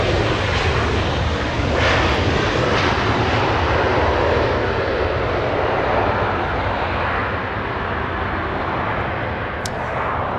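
A fixed-wing airliner lands at Los Angeles International Airport, its engines producing a loud, sustained roar and rumble that holds steady for about ten seconds.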